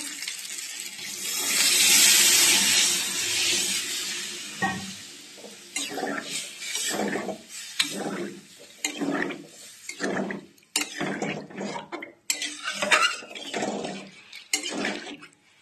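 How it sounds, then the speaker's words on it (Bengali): Curry broth pours into a pot of potato masala with a loud rushing hiss for a few seconds, followed by irregular stirring, scraping and sizzling bursts, and no talk. "এখন আমি ঝোলটা দিয়ে দেবো"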